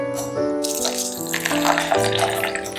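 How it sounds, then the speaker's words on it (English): Water pours and splashes steadily into a container nearby, a continuous gushing sound with a faint hum underneath. "Pour water inside"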